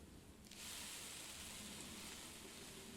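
Onions and chilies sizzling in a pan while cooking in the game Venba, a steady broadband frying hiss that swells in after a quiet start and holds on evenly to the end, with no talk.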